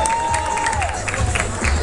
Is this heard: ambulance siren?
no